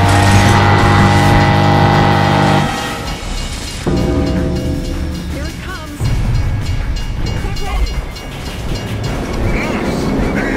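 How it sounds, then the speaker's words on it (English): In the video game Gears of War, a loud, sustained train horn blares over a rumbling, clattering passing train, then gives way to shifting mechanical noise and game sounds. "Why is there a honk sound? Oh, it's a train."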